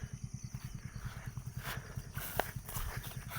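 An eight-month-old horse walks with a steady, rapid clip-clop of hooves, evenly spaced and moderately faint, continuing throughout over a light background hiss.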